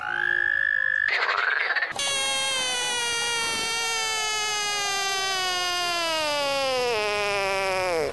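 Frogs calling loudly and continuously, a dense chorus of strained, wavering croaks and cries that slide gradually downward in pitch, close and sustained with no talking.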